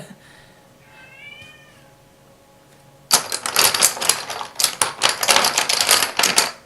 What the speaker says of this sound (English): I don't know if you heard that cat or not.